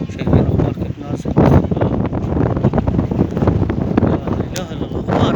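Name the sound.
strong surface wind during dust storm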